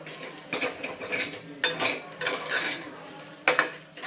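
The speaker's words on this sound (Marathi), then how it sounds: "हे सुद्धा ह्या डाळीसोबत छानपैकी परतून परतून घ्यायचे" Spoon stirring and scraping vatli dal as it is sautéed in a metal pan, with several separate bursts of clattering utensil contact against the pan and a soft sizzle underneath, close by with no voices.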